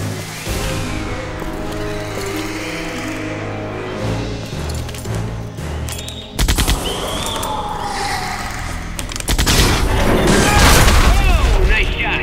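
A gunshot in a Jurassic Park video game cracks out with a sharp boom against a loud, busy background of music and effects. Voices are faintly mixed in.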